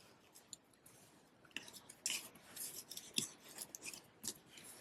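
Scissors snip a ribbon tied around a handmade watercolor melon greeting card. The close, crisp cuts come in a few separate bursts with short pauses between them.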